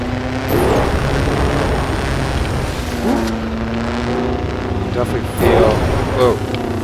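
A vehicle driven by a jet engine mounted at the back roars steadily in the Trailmakers vehicle-building game. Its broad, continuous rushing noise runs the whole time, and someone talks intermittently over it.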